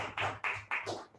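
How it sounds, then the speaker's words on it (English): A handful of distinct claps sound at a hybrid Toastmasters meeting, four quick, evenly spaced hand claps, fairly faint and close, with no voices. "I would request everyone to give a thunderous round of applause for the person Toastmaster Udang"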